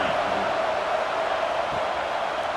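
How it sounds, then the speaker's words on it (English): Steady crowd buzz in the stands at a college football game in EA Sports College Football 26, Duke at Clemson, a continuous loud roar of many voices just after a score with no break. "this crowd is buzzing after that last score"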